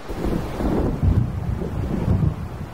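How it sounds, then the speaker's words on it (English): Stormy weather in Alan Wake: a steady, heavy low rumble of thunder and wind with rain noise rolls on for the whole stretch, swelling in a couple of places, with no voices. "It seems there's a storm coming."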